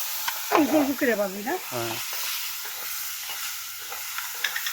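Meat fries on a small play-kitchen stove fed with gathered firewood, giving a continuous crackling hiss; a voice speaks briefly near the start.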